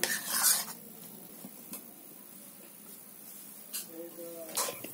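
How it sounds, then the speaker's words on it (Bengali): A spoon scrapes and clinks against a pan while a milk powder mixture is stirred over a low flame for a sandesh sweet. A few sharp metallic taps and soft rubbing sit over a quiet background with faint noises. "এটাকে আমি আবার উনুনে বসিয়ে দেব।"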